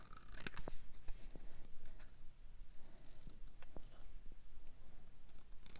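Scissors cut paper for a handmade card up close, with quiet, irregular snips and crisp paper rustles spread through the stretch, no talking.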